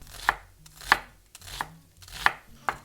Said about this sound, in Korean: 오늘요 양파 1개 다집니다.